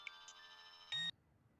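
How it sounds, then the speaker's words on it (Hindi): A short electronic ringtone chirps quietly, then a brief louder tone burst sounds before it cuts off into near silence. "तेरा फोन बज रहा है।"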